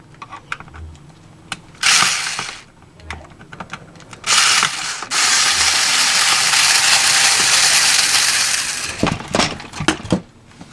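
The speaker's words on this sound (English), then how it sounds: "one screw that holds the flywheel cage in this whole assembly, and you want to remove that" A screw is removed from the flywheel cage assembly of a 3DPS Block Head front end for a Prometheus. Close ratcheting clicks and rustles run in bursts, with a longer stretch of steady scraping in the middle.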